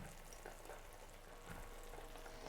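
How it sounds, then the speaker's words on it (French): Sugar and butter sizzle in a saucepan as they melt toward caramel, a steady soft crackling fry with faint stirring, quiet and continuous with no talk. "Je vais faire fondre le sucre avec le beurre et puis je rajouterai la crème en 2 temps."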